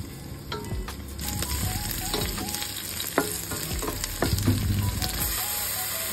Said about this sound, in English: in a pan, heat oil and then saute the onions